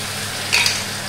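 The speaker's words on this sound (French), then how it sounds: "je laisse revenir ma viande en la retournant de temps à autre pendant quelques minutes" Steady close sizzle of lamb frying with spices in a pan for a mrouzia tajine, with a brief utensil scrape midway.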